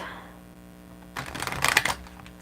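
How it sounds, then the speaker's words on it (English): A large oracle card deck is shuffled in one quick riffle of about a second, a dense papery flutter that builds to a peak and then stops against quiet room tone. "Couple more shuffles."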